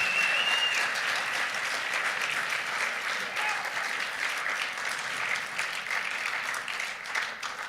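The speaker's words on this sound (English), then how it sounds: "We're going to have another round of applause for all those phenomenal" Audience applause fills a hall at a high-school poetry recitation competition, steady clapping from a crowd sustained throughout at moderate loudness, heard alone without speech.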